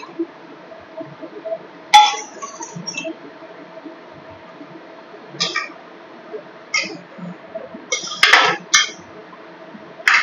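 A bowl that held sour yogurt is rinsed with a little water, with a few sparse, bright clinks of dishware over a quiet kitchen background.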